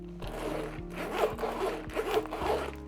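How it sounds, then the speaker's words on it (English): A metal zipper on a Lululemon Everywhere Belt Bag is drawn several times in quick strokes, a close raspy, ratcheting whir with short pauses between pulls and no talking. "when it comes to the zippers on this bag, they are metal zippers."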